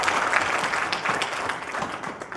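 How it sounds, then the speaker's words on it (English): A session audience breaks into applause, a continuous wash of many hands clapping at a moderate, even level for a couple of seconds with little else audible. "Let's give a round of applause for Dr."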